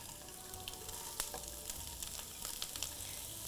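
Carrots frying in ordinary vegetable oil in a hot wok for Korean japchae: a quiet, steady sizzle with scattered crackles and pops.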